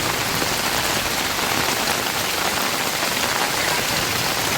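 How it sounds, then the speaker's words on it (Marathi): Heavy rain pours down steadily on a house under construction, a dense, loud, unbroken hiss of water with no voices or other sounds. "पाऊस खूप आहे."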